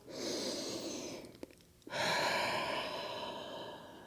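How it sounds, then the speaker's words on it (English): Breathing during a breath and movement exercise: a long, steady breath in and out, a brief pause with a couple of small clicks, then another strong, airy breath, close and soft, with no talking. "One last round of breath."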